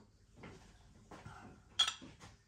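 Someone rummages for a bottle opener among kitchen utensils: soft clinks of metal cutlery and dishes shuffling nearby, with one sharper bright clatter near the end, fairly quiet overall.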